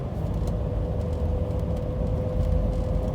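A 1969 Shelby GT500 engine drones steadily in third gear while cruising a bumpy back road, a constant low rumble heard from inside the cabin with a faint steady tone and no talking.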